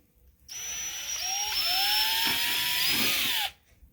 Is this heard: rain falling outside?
no